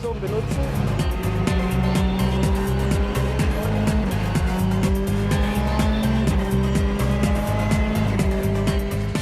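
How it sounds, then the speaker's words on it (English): VW Polo R WRC rally car driven hard on dry ground, its engine roaring and climbing through rapid gear changes in a repeating stepped rhythm, loud and close from the cockpit, with tire noise and rattles underneath. "Since the ground is dry today, we can use full engine power."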